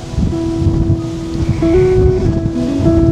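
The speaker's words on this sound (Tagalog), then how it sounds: "Grabe, lakas pa rin ang hangin, na ba?" Strong wind sweeps a mountain campsite, roaring and buffeting the microphone in continuous gusts, with a faint steady tone running underneath.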